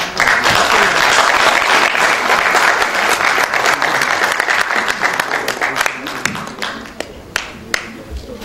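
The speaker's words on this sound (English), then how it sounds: "Once again, a round of applause for Dr. Vedji." Audience applause at a celebratory academic lecture, a dense sustained round of clapping that thins out toward the end into a few scattered claps.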